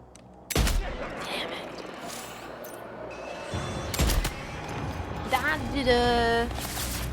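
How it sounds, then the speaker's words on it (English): In the video game Death Stranding 2, two loud sharp gunshots ring out a few seconds apart over a busy game soundscape, followed by a rising tonal electronic effect. "they heard the gunshot"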